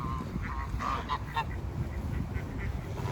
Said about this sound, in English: Goose, that would definitely say a goose.